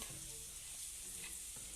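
Whole spices sizzling in hot oil for pilau, a constant close-up frying hiss with faint stirring, no voices.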